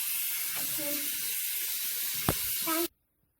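Water poured and running while a baby's hair is washed, a steady close hiss of flow with a brief knock partway through, ending abruptly; faint voices sound under the water.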